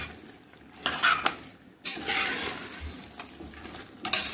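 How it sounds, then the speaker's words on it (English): A spoon stirs tomatoes into mutton curry in a pot, with scraping strokes against the metal and bursts of sizzling between them, loud and close, with no talk. "So you stir it in."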